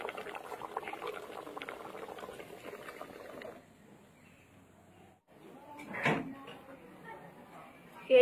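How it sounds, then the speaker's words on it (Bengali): Rui fish kachori deep-fry in hot oil with a bubbling, frothy sizzle. It is strong at first, then drops away to near quiet before a brief burst of fresh bubbling returns. "এইভাবে সব কচুরি একদম পুরো ভেজে নেব।"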